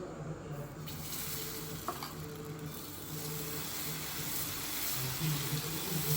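Mung dal dosa batter cooking on an oiled griddle, a continuous close sizzle with a couple of light clinks, swelling slightly louder toward the end, no talk.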